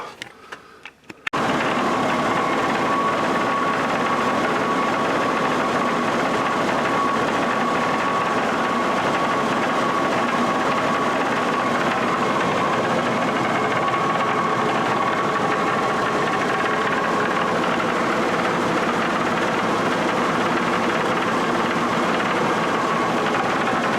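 A tractor engine idles with a steady, even mechanical chatter after a brief quiet start, sounding close and unchanging for over twenty seconds.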